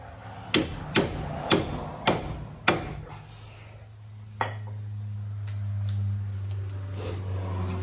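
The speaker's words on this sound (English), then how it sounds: "So now we're going to take our 18 millimeter socket, put it over the nut, and hammer it on." Five sharp metallic hammer blows drive an 18 mm socket onto a Dodge Caliber tie rod end nut in quick steady succession, then a single softer knock, over a low background hum.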